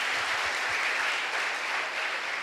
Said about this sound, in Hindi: बॉस के लिए एक बार जोरदार तालियां होनी चाहिए दोस्तों।